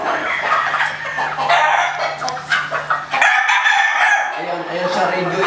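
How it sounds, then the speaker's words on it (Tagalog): A rooster crows loudly and close by, its long drawn-out call riding over clucking and other farmyard noise. "Magandang manok at saka masyadong matalinong manok ito."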